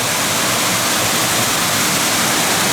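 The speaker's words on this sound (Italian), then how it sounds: "Le cascate a scalini, stupendi." A stepped waterfall cascading in the Valle del Mis, Dolomiti Bellunesi National Park, gives a steady, loud, broadband rush of falling water that holds constant throughout, with no voices.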